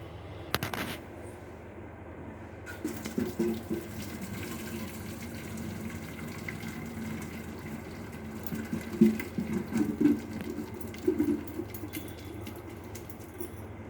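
Hot water pours through a strainer and splashes steadily into a sink for several seconds, a continuous rushing gush with small clinks and a few louder spatters near the end.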